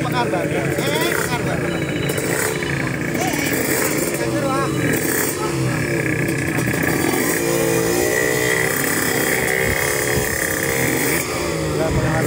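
Tuned motorcycle engines rev loudly and continuously at a street engine endurance contest between rival tuners, buzzing and wailing through the whole stretch while people talk over the din.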